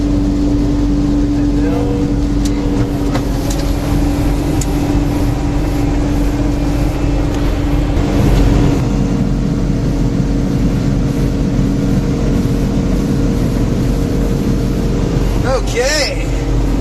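Motorboat engine at high throttle in strong wind, a loud steady drone with heavy wind and water rush throughout, while someone talks over it.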